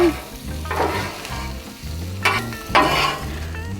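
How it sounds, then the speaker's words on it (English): Beans and chorizo stirred together in a hot pan for breakfast tacos, a loud close sizzle with repeated scraping, clattering stir strokes and no talking. "And now we're just gonna mix everything all up together"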